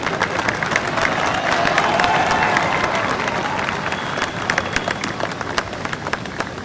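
Audience applause at a Republic Day ceremony, a dense sustained patter of many hands clapping that swells and then thins toward the end, with scattered louder individual claps.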